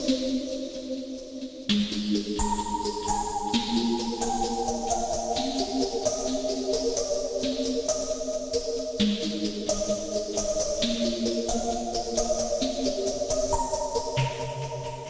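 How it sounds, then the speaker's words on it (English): Korg Opsix FM synthesizer playing a snowball patch through its punch effect: sustained bright chords shifting every second or two, with crisp percussive attacks on each change, steady and fairly loud, no voice. "Another one of the effects is called punch."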